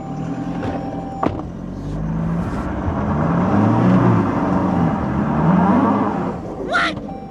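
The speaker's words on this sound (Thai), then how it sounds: "ผมจะกดคันเร่งปุ๊บ" A two-wheel-drive pickup truck with its diff-lock engaged accelerates up a hill: a close engine rises in pitch and loudness, holds a strained drone, then eases, with a sharp click early on and a brief scrape near the end.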